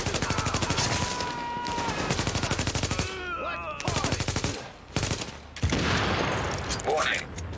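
Rapid automatic gunfire from the video game The Division rattles in dense bursts, with sharp repeated shots, brief pauses and some electronic game sounds mixed in.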